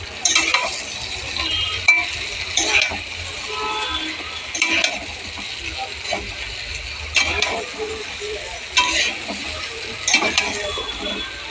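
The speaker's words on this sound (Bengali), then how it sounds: "ভেজে রাখা ফুলকপিগুলোকে দিয়ে আরেকটু নাড়তে থাকবো" Fried cauliflower with asafoetida being stirred in a pan: a soft sizzle runs underneath as a utensil scrapes and clinks against the pan in repeated bursts every second or two.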